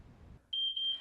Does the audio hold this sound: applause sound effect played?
no